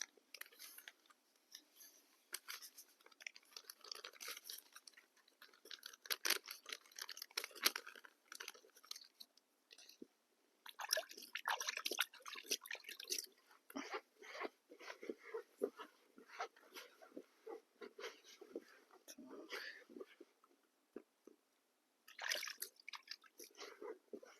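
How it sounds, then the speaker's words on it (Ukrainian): Bait paste mixed with krill and worked by hand on the bank of the Southern Bug river gives close, wet squelching and crunchy kneading noises in irregular bursts, with short pauses between handfuls. "Також зараз замішаємо мастирочку з крильом."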